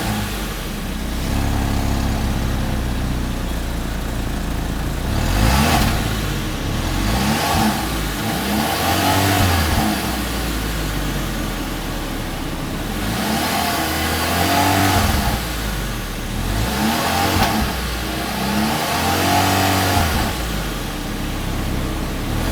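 A 2024 MG 3 engine revved in neutral, rising and falling repeatedly to around 2,700 RPM in steady loud surges, close and continuous with no talking.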